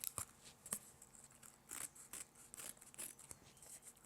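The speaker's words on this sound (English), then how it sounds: "So you can see I'm angling my scissors quite steeply so I get away from that frame there." Scissors trim around the edge of a craft frame on an Ebony Ice embellished project, making a run of quiet, uneven snips and crisp cuts separated by short pauses.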